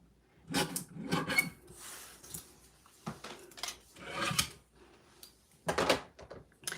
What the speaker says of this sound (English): Then we're going to grab our little cutter. We're going to trim it off here.